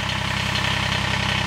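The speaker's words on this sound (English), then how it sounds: "There's something about starting a diesel tractor on a chilly fall day." A small Kubota BX23s diesel tractor idles on a chilly fall day, its engine giving a steady, close, low rhythmic chug with no talking.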